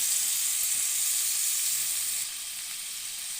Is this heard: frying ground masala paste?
yes